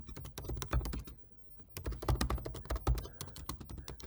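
Fingers typing on a computer keyboard, a close, rapid run of crisp key clicks that pauses briefly midway before resuming at a brisk pace, with no voices.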